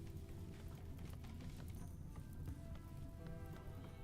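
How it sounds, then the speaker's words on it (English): Rain falls in the RimWorld video game, a soft, faint, steady patter of drops that holds evenly throughout with no other sounds over it. "It's actually raining."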